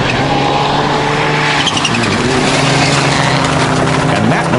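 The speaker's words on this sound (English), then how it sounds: "that noise is a flat tire" A rally car roars along at speed on a flat tyre during a forest rally, engine loud and steady, with a rhythmic flapping and grinding from the tyre beneath the noise.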